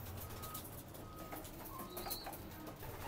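Faint pigeon coos drift through a quiet, enclosed space, soft bird calls scattered over a low background hum.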